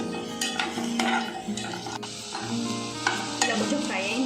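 Green chillies sizzle and fry in a pan for veg biryani, close and steady, with a spoon stirring and scraping against the metal throughout; there is no talk.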